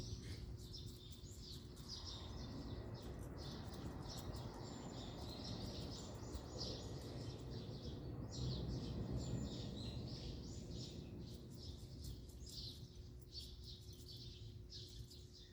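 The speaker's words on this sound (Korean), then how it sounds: "나무도 있어가지고 지금 참새들이 짹짹거리는 소리가 아마 들릴 거예요" Sparrows in trees chirp repeatedly in quick, high twitters, faint and distant, over a low steady background hum in the morning.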